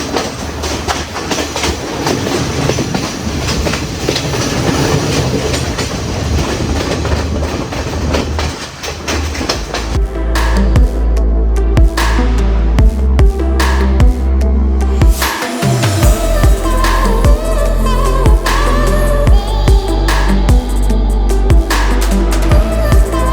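Ella Odyssey Express tourist train in Sri Lanka rumbling along the rails, a loud continuous roar with rhythmic clickety-clack of wheels over joints that grows heavier and closer partway through.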